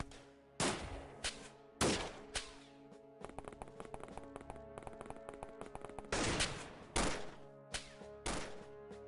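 Repeated AK rifle gunfire in the X-Com Files video game: loud sharp single shots and short bursts, with a rapid string of quieter shots in the middle, close and dominant.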